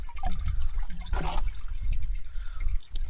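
Liquid pours from a small pot into a sprayer pump tank, mixed for treating tomato plants. It is a brief splash heard over a steady background hiss.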